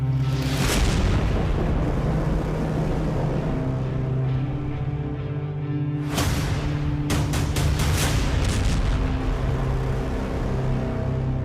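Rocket attack explosions in Kyiv: deep continuous rumbling roar, then a sudden blast followed by a rapid string of sharp detonations, loud and sustained throughout.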